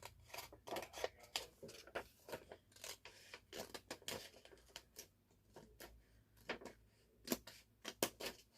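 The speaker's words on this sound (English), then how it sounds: "I can just punch with my scissors." Scissors punching and snipping through paper for a handmade devotional booklet, a string of quick crisp cuts and taps in irregular bursts, close and fairly quiet, with no talking.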